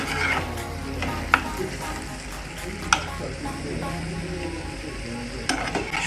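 Squid samosa filling, cooked with spices, sizzles steadily in a pan while a utensil stirs it, with a few sharp scrapes and clinks against the pan over the frying hiss.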